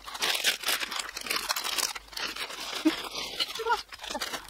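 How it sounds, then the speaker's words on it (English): Crisp packets being crinkled, crushed and squeezed together by hand, giving dense close-up plastic crackling and rustling in irregular bursts, with a few faint sounds in between. "we've comfortably managed to squeeze 3 packets of crisps into one pack"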